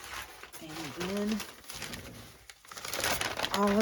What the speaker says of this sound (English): packing paper is what I tend to use